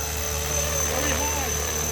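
A helicopter flies with a steady, loud rotor and engine drone, a constant whine running throughout while someone talks over it.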